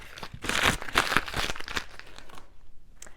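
Tape being peeled off the back of a stapled art canvas: close, crackly crinkling and tearing bursts in quick irregular pulls that fade to near quiet at the end.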